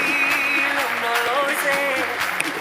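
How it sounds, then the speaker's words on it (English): An audience at a Democracy Day dialogue event claps for a visiting former head of state, a moderate patter of applause with a sustained tonal voice or music layered over it. "Please, one more round of applause for His Excellency."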